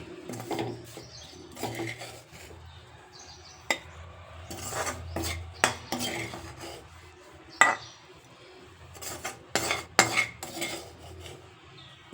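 A spoon scraping and clinking against a bowl as fried coriander and mint are gathered in, a run of sharp irregular metallic taps and scrapes with soft rustling between.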